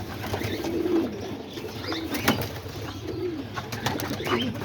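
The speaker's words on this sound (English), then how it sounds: "There's a dad pigeon sitting with both of the babies." Homing and roller pigeons in a loft coo softly and repeatedly, overlapping in low rolling phrases, with occasional light clicks and rustles nearby.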